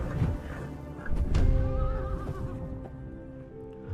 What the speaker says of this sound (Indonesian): Tiba-tiba datang Pegasus hitam mendekati Perseus